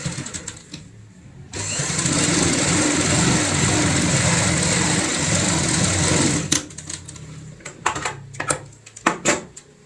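Sewing machine stitching a ladies' purse runs steadily for about five seconds in the middle, loud and close, with quieter handling clatter and short taps before and after.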